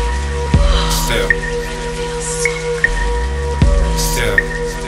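A rain sound effect in a song plays as a soft, continuous patter of falling raindrops with occasional drips, blended beneath the music's sustained tones and vocals.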